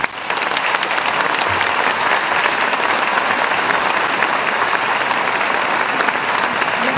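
Sustained audience applause at a New Year's greetings ceremony in Châteauneuf-les-Martigues, steady dense clapping filling the whole stretch at even loudness.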